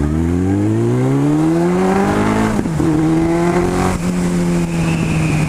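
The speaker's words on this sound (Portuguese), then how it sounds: "Deixa eu dar uma aceleradinha aqui agora." A Suzuki Bandit 1200 N motorcycle engine revs up steadily, its pitch climbing, then holds a high drone with a brief dip and recovery.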